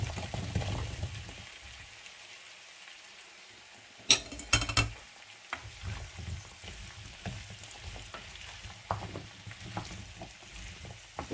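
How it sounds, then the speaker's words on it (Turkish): Brussels sprouts sauté in a pan with onion and garlic in their own juices, giving a soft continuous sizzle. A sharp clatter of the pan or utensil cuts in midway and lighter stirring knocks follow. "Birazcık da böyle bu şekilde sotelensin."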